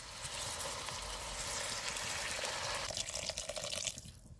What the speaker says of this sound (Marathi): जरा कोमट पाणी घालायचं.